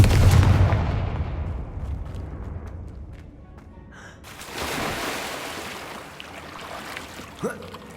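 A Confringo fire spell from Hogwarts Legacy bursts with a heavy booming blast, then fades into a rumbling tail and settles before a second, fainter crackle near the end.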